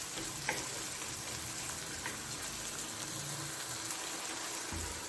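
Tomatoes cook in a pan for an egg omelette, giving a soft, even sizzle and hiss with a faint clink or two, quiet and unbroken.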